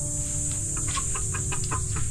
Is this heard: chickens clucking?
yes